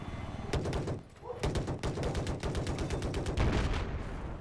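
Missile fire and rapid weapon bursts in a two-versus-two helicopter duel video game, a dense run of sharp repeated cracks and booms filling the whole stretch, loud and close, with commentary voices underneath.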